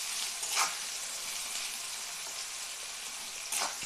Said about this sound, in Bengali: তাহলে পেঁয়াজটা আমি একটু ভেজে নিচ্ছি।